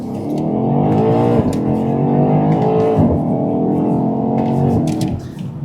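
BMW X5 M Competition accelerating hard onto a highway with a loud, steady engine roar that climbs in pitch and dips briefly at two quick gearshifts, then eases off at the end.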